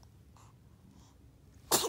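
A dog gives one sharp, close sneeze near the end, after a stretch of quiet room sound with faint soft breaths.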